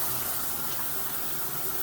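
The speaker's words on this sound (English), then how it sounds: "That's the valve for the water." Water rushes from an open valve in a steady, broadband hiss, fairly soft and continuous throughout the short moment with no talking.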